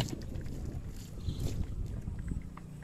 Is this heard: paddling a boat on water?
yes